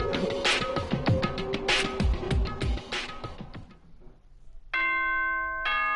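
A doorbell-style ding-dong chime announcement from the Danganronpa video game rings out clearly near the end, sustained tones following a stretch of busier game sound.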